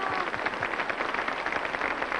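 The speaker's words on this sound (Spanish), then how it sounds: "¿No le damos un aplauso un a mi hijo y a México?" Studio audience of a 1995 Mexican interview program applauding a guest's son, dense steady clapping throughout, fairly close and even, with no voices above it.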